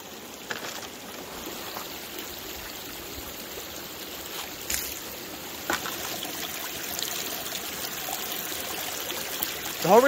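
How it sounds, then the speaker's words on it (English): Water runs steadily down a gold prospecting sluice carrying pay dirt, a continuous close trickle and gurgle with a few soft knocks. "I can tip a pan down that sluice in like 15 seconds"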